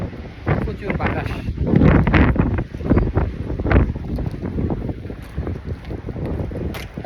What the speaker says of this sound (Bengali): ঠান্ডাটা কম কিন্তু প্রচুর বাতাস।